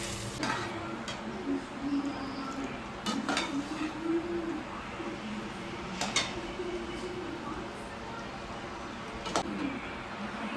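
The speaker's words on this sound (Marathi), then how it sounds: "आता पुन्हा एकदा मी याला व्यवस्थित परतवून घेते" Cheesy Disano pasta is stirred in a pan, with soft scraping and sizzling at low level punctuated by several sharp spoon-on-pan clicks and knocks.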